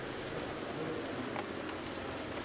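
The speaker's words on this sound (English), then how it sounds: "And the rain starts plummeting down." Heavy rain pours down steadily during a women's road cycling World Cup race in Vårgårda, Sweden, a dense, even hiss with no breaks and no voices over it.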